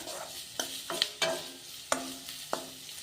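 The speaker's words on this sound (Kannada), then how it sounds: "ಇವು ಫ್ರೈ ಆದ" Snack ingredients frying in a pan for an evening snack, with a steady low sizzle broken by several sharp clacks of stirring against the pan, close up and without talk.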